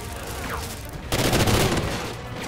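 Gunfire in the shooter game Call of Duty Ghosts: a dense burst of loud close shots and booms swells midway, over steady background battle noise.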